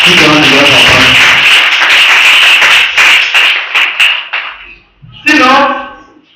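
A church congregation claps for its pastor during a French-English teaching service, a burst of brisk applause under a loud voice, thinning to scattered claps before the speaking resumes.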